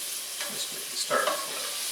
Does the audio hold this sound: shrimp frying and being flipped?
yes